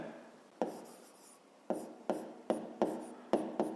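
A maths solution being written by hand, close scratchy pen or chalk strokes in short separate bursts with pauses between, quiet and alone without talking.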